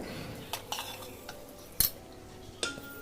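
Chicken curry scooped with a metal ladle from one pot into another, giving a few sparse clinks and scrapes of utensil on metal, with one sharper clack near the middle; no talk.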